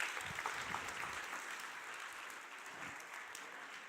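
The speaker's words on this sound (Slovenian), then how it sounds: "En aplavz za vse nas." Applause from an audience at a motivational talk, a steady wash of clapping that fades slightly toward the end.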